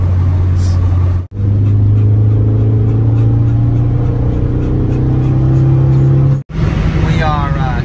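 A car engine revving and pulling along with a rod knock, a steady loud drone with a strong low hum that holds under the drive, broken twice by brief cuts in the sound.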